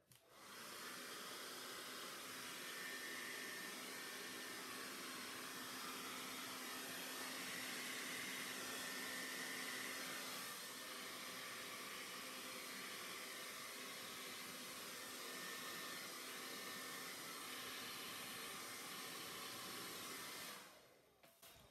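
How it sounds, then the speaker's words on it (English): A hair dryer blows steadily and loudly across thick acrylic pour paint for a Dutch pour, a constant broadband whoosh running about twenty seconds alone before cutting off. "we're going to use our blow dryer and we're going to cover it."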